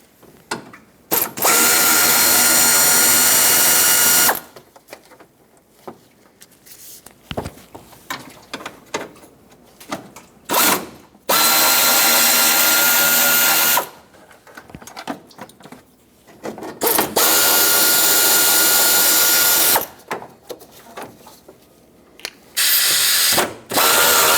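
A ratchet loosens 10mm fan shroud bolts on a 1995-2004 Toyota Tacoma with a 2.4L four-cylinder, in several long bursts of rapid, loud clicking separated by quieter pauses with small handling sounds.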